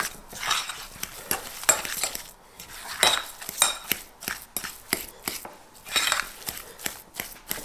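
Keto lemon bread batter being mixed in a bowl, with close, rhythmic scraping and clinking of a utensil against the bowl in uneven bursts and no voices.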